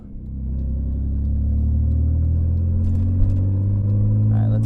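A fire-damaged C5 Audi Allroad's engine, heard from inside the car, rises to a loud, steady rumbling drone as it is floored, holding strong for several seconds with no talk over it.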